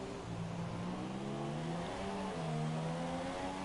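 In the F1 2017 video game at Japan, race cars brake late into the final chicane, their engines a continuous droning whine that shifts pitch as they slow, with no voices.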